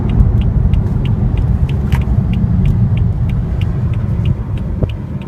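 A 2015 BMW M3/M4 rated at 425 horsepower accelerates out of a turn, its engine a loud, deep, continuous rumble with faint rhythmic ticking above it.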